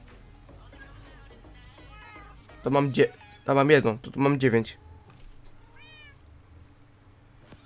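Cats meowing in the video game Minecraft: a loud cluster of several overlapping meows bunched in the middle, with Polish conversation before and after.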